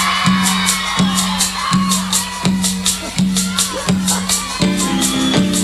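Crowd of girls screaming and cheering at a live 2001 cumbia concert, loud and sustained, with a regular pounding band beat underneath.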